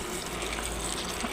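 Water pours steadily over soapnuts (reetha) being rinsed clean of dust for a homemade herbal shampoo, a continuous close gushing splash with no talking.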